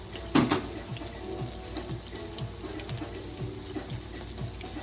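Ripe plantains frying in oil in a pan, a soft steady sizzle with a few brief louder spits near the start and faint clinks of the pan.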